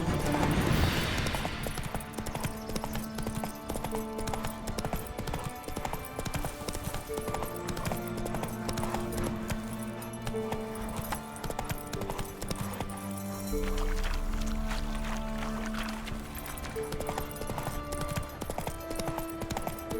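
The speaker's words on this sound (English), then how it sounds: "That's it, Roach" Hooves of a horse in The Witcher 3 clip-clop steadily at a trot over game music, with a snort or whinny near the start.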